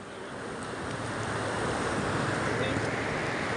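Surf washes steadily along a seashore as a continuous broad rush with wind noise on the microphone, no distinct wave breaks.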